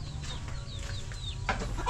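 Chickens on a farm cluck softly and chirp close by, several short calls in a row over a low background hum, with a slightly louder burst near the end.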